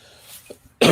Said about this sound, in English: damn freaking COVID cough